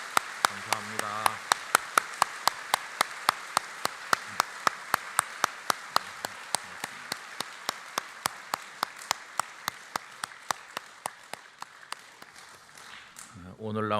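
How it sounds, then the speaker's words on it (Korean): A Yeongnak Church congregation at a special dawn prayer service keeps up long, steady rhythmic clapping with crisp evenly spaced beats that fade slightly toward the end, with voices faintly audible at the edges. "이렇게 오래 박수하는 건 영락교회 역사 이래 거의 처음은 아니고"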